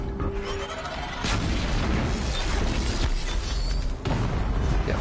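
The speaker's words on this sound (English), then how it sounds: "An explosion." An explosion in the video game Horizon Zero Dawn, a dense booming burst with crackling debris and rumbling aftershocks, with a second heavy hit near the end.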